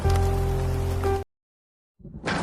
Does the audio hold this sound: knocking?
no